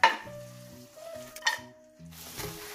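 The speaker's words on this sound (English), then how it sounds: "Slice the carrots and onion leeks white part into thin julienne slices. Add it into the pan." Julienned carrots and white leek slices hit a hot pan for a Korean spicy stir-fried pork dish, giving a brief soft sizzle with light clinks of a utensil stirring against the pan, close and fairly quiet.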